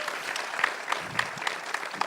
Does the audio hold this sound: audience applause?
yes